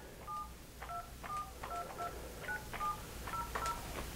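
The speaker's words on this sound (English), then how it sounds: "I'm going to press 9 to get my outside line, dial the phone number of the party that you would like to reach" An outside number is keyed on an ESI office phone system: a quick series of about a dozen clear dual-tone beeps in an uneven rhythm, crisp and close over faint background hiss.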